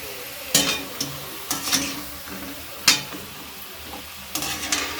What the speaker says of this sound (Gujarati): આ ભૂંગળા તળી લઈશું।